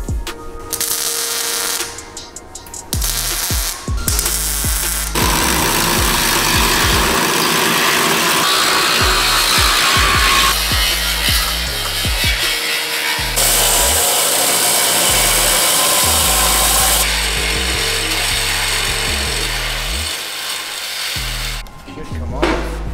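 Loud, continuous whine of a power tool cutting metal off a Ford F550 truck, sustained close up for most of the span with shifting pitch as it bites into the material, and some talk early on.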